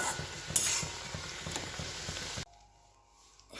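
Large prawns sauté with masala in a pan with a steady bright sizzle and a few stirring scrapes, then the sizzle cuts off abruptly into near quiet.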